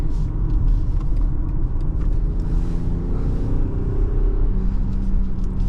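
A 2024 BMW X4 M40i's inline-six engine pulls hard under acceleration, a steady, loud, close rumble from inside the cabin that holds for several seconds without a break.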